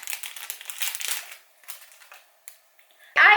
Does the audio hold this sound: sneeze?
no